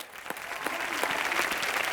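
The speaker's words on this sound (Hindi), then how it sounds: "खड़े हो गए तालियां बजाएं" A studio audience on a Colors TV entertainment talk show bursts into applause, building from scattered claps to steady, dense clapping that fills the room and continues without speech.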